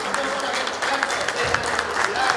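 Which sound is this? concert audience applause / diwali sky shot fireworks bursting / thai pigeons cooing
concert audience applause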